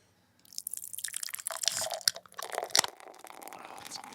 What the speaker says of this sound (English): I am pouring my beer at the same time as the sound effect